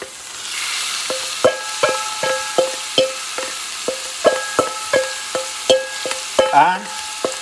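Ground meat fries in a cast iron pan with a steady sizzle, while a utensil scrapes and knocks against the pan in a repeated rhythm of close, sharp taps as the meat is broken up and stirred.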